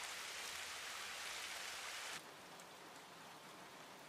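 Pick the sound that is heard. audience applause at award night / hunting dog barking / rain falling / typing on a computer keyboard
rain falling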